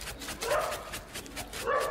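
Dogs at a house give short yipping barks and whimpers, moderately near and fairly faint, in quick bursts across two seconds.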